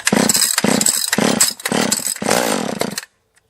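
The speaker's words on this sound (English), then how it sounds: "Blow the saw off, turn it on, hit the choke on it" A chainsaw being started and run during maintenance prep for tree work, giving a loud, rough, close-up engine burst with uneven revving pulses for about three seconds before cutting off abruptly.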